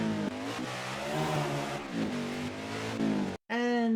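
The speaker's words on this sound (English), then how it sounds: "Driving a full-blown race car like this takes a lot of practice, patience, and also a lot of training." A race car engine revs and drives past, its pitch rising and falling in several loud surges, then cuts off abruptly before another sharp rev.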